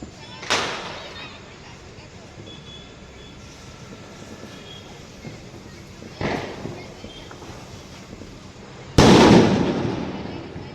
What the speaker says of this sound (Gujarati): ગામમાં પણ ફૂટી રહ્યા છે ફટાકડા.